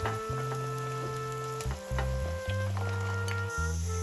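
Raw plantain pieces frying in oil for vazhakkai chops, with a close, steady sizzle and bubbling, a few spatula clicks, and a sustained tonal hum running underneath.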